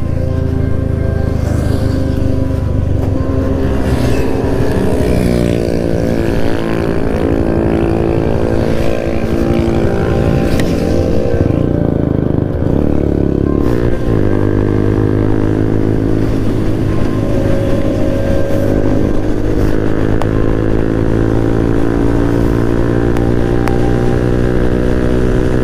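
A group of Kawasaki Z800 motorcycles rides out to Sadra Fort, leaning hard through bends. Engines drone loudly and continuously, rising and falling in pitch as the bikes accelerate and pass close by.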